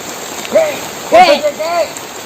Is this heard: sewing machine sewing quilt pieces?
no